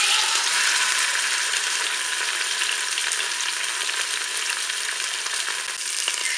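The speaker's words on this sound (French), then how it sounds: "Maintenant, je vais faire revenir mon rôti." A pork roast sears in hot oil inside a Cookeo multicooker, giving a loud, continuous, even sizzle and crackle with no pauses and no voices.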